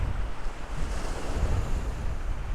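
Waves washing onto a small beach in Michigan's Upper Peninsula, a continuous loud surf rush mixed with wind buffeting the microphone, close and steady with no voices.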